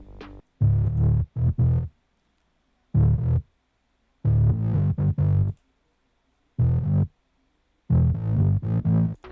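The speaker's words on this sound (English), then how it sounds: "a free distortion plugin called Camel Crusher" Bass processed with chorus, a saturator and Camel Crusher distortion plays short, punchy, loud phrases separated by silent gaps, heard alone without talk.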